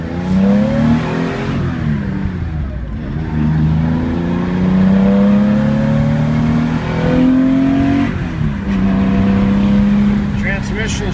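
A 1971 Porsche 911E engine pulls hard through the gears on a test drive, rising revs dropping at each shift before climbing again, loud from inside the car with someone talking over it.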